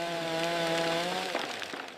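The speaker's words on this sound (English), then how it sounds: "Watch the chainsaws." A chainsaw cuts on a renovation site at an abandoned Gothic church, its steady high-pitched engine whine loud and close for about two seconds, then roughening with bursts as the chain bites into the workpiece.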